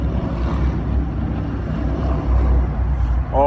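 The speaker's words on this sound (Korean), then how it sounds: "오토바이가 지나가네요." A loud, continuous engine rumble of a passing motorcycle in a residential area, close by and steady throughout, with low throbbing tones.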